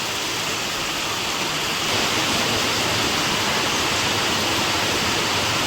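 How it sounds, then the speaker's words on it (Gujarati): Heavy monsoon rain pouring down, water streaming off rooftop eaves onto a temple and road: a dense, loud, unbroken rush of broadband noise, close and steady with no pauses. "જોરદાર વરસાદ પડી રહ્યો છે."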